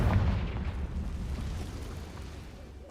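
Explosion effect from the Confringo spell in a video game, a deep booming blast at the start that rumbles and slowly fades over a few seconds.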